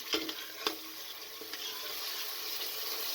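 Goat meat frying in hot oil with garlic and ginger in a pressure cooker, a steady close sizzle with a few sharp stirring clinks early on.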